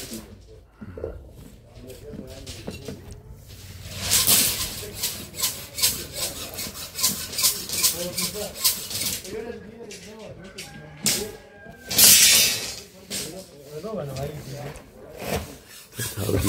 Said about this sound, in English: That's how they cut off, they cut the metal rods, the hacksaw.